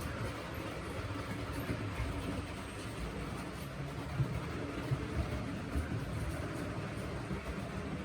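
A small Electrotren model of a Spanish RENFE Class 354 train hums and rattles steadily along its track, quiet clicks of wheels over rail joints repeating under a soft motor whir.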